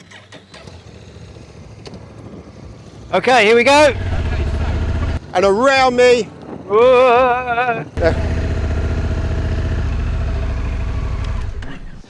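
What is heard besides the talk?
motorcycle engine starting and running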